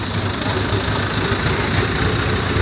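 A tractor hauling sand at an illegal sand-mining site in Hajo runs with a steady, close engine drone, throbbing evenly throughout with no voices.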